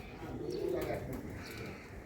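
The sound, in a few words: pigeons cooing on a rooftop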